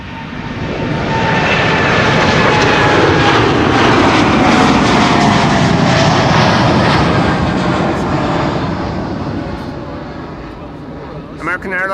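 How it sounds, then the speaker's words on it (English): An American Airlines jet departs runway 24 at Amsterdam Schiphol, bound for Dallas Fort Worth, its engines a loud, broad roar close by that swells and holds for most of the stretch before easing, with a voice briefly at the end. "American Airlines on its way to Dallas Fort Worth, Texas."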